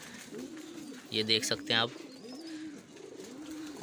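Pigeons cooing softly in low repeated rolls, while a person speaks briefly over them partway through.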